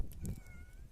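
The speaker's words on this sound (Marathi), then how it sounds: "ही पा ही आमची मांजर" A short, soft cat meow close by, quiet and brief, with faint background noise.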